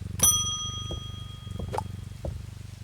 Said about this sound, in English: Click the bell.